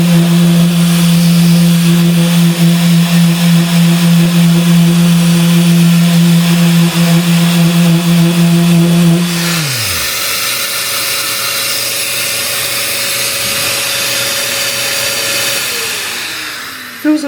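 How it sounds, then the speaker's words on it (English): A Mirka sander fitted with 80-grit paper and a long dust extraction hose, working on a wooden fence post top, gives a steady electric whine. It then abruptly winds down, leaving a fainter hum that tapers off. "Another advantage of a Merca sander is they have really long hoses."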